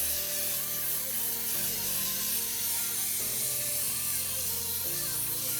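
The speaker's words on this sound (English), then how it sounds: "I wanted to try this color mist on it, see if I could really even color this white clay, and I just think the aerosol is pretty cool" Continuous hissing of an aerosol color mist spray can being sprayed onto white clay, held steadily for several seconds with slight shifts in tone.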